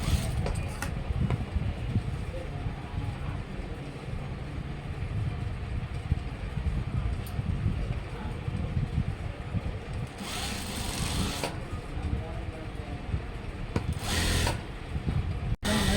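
A sewing machine stitches a school uniform coat, producing a loud, continuous mechanical whirring drone that fills the whole stretch, with a couple of brighter, harsher bursts toward the end and no talking.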